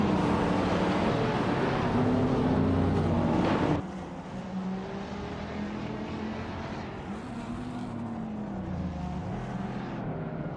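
Race cars in a video game duel door to door, their engines droning loudly and continuously with shifting pitch, dropping in volume partway through as the sound carries on steadily.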